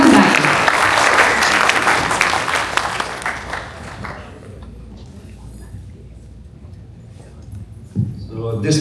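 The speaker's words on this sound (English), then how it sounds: "I think we deserve a larger round of applause for Hemant Bhai." Loud audience applause at a patriotic gala, dense clapping for the first four seconds before thinning into scattered claps and dying down, with a brief burst of noise near the end.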